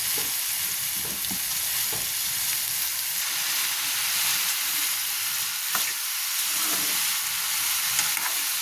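Ridge gourd pieces fry in a pan for a palu curry, giving a steady, close sizzle with a few soft spatula scrapes and no talking.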